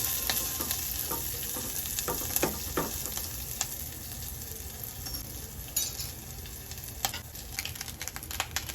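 Pepper powder fries with cumin in a pan for jeera rice, a continuous soft sizzle under scattered close scrapes and taps of a spoon stirring.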